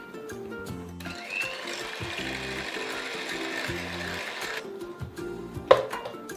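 An electric mixer whisks egg whites with cream of tartar for meringue, a steady close mechanical whirr running the whole time over a rhythmic background beat, with one sharp knock near the end.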